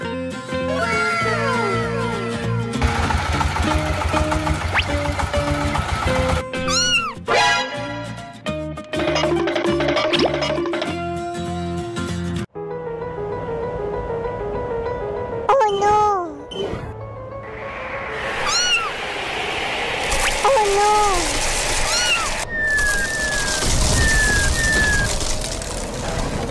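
A kitten meows repeatedly in high, rising and falling cries, close and loud, mixed with other cartoon-like effects and bursts of noise over nearly half a minute.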